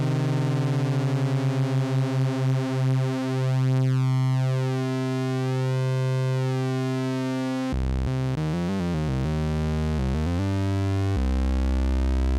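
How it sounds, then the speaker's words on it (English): A Moog Model D Mini synthesizer holds a steady sawtooth drone while its second saw oscillator is swept in pitch, creating wavering beating that slows toward unison, then shifts with pulsing interference near the end. "so we have to tune our second oscillator."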